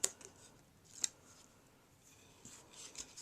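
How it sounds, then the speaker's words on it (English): Backing being peeled off adhesive glue strips during a paper craft card kit assembly, giving a few sharp close peeling rips with quiet rustling between them and no speech. "We'll peel off the backing."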